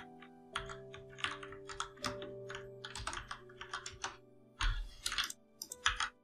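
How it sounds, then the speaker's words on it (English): Rapid, uneven keystrokes on a computer keyboard while entering text in DaVinci Resolve 16, with close, crisp clicks in bursts and short pauses between words. "I will type in the style text"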